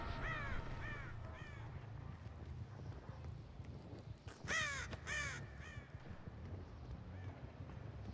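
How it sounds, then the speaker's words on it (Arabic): Crow in the Dead by Daylight video game: hoarse caws repeat near the start, then a louder burst of cawing with a flutter of wings as it takes off, over steady wind-like ambience. "او في غراب طار ورا، تصدق"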